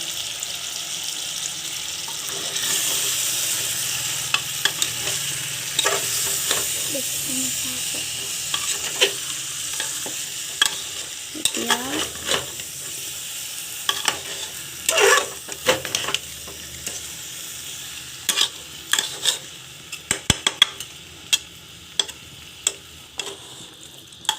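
Soaked rice for chicken pulao fries in a pan with a steady sizzle, broken by frequent scraping and clinking stirs. No one speaks.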